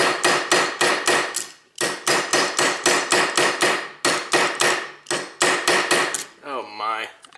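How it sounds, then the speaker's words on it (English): A roll pin punch is hammered on a stainless steel Beretta 92 pistol, giving a rapid, steady series of loud, sharp metallic strikes in quick bursts with brief pauses, then a short ringing squeal at the end. "I'll go ahead and use this roll pin punch"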